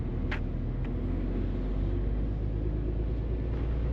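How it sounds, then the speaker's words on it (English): Low steady rumble of road traffic heard from inside a stopped truck, a continuous engine and tyre drone with no distinct single pass. "Bloody traffic."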